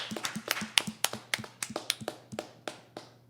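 Applause for the technicians at the 2021 Salon du Livre Hochelaga-Maisonneuve book fair: a quick run of about a dozen crisp, close handclaps at a steady pace, thin and sparse rather than a full roar, fading toward the end.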